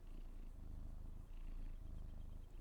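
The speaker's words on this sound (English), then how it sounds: "I don't know if you can hear him purring, but he is purring." A cat purring close up, a low, rhythmic rumble with a brief pause midway, soft and continuous, no voices.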